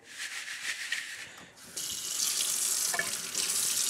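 Tap water runs into a kitchen sink as crickets are rinsed with warm water, a steady near rush that briefly eases and then returns fuller and louder.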